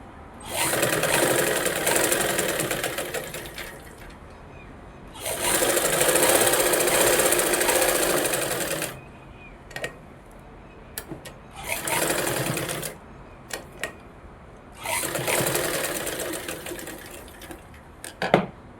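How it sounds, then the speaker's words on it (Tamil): A sewing machine runs straight stitching on a blouse lining in several long bursts, pausing between runs with short starts and stops, loud and close with no talk over it. "தையல் அடித்து எடுத்துக்கலாம்."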